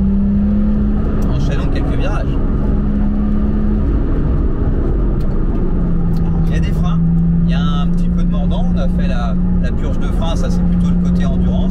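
A Porsche 996 RTS3 sports car threads through corners, its engine droning steadily and shifting pitch midway as it changes gear, under continuous close-up talk from the driver.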